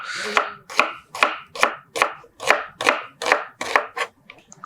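A knife slices onions quickly on a board, about ten crisp, evenly spaced cuts in a steady rhythm, close and clear with no talking.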